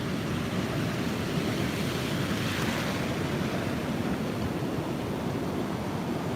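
Ocean surf breaks and washes continuously along the beach, a loud, steady roar with wind noise over the microphone and no talk.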